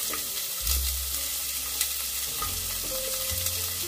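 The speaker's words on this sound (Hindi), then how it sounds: "ते बरें भाजून घेवया" Onions and green chilies frying in hot oil with mustard seeds and cumin, a strong close sizzle with scraping stirs and low clunks of a utensil against the pan, no voices.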